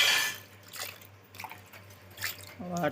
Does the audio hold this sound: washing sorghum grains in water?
yes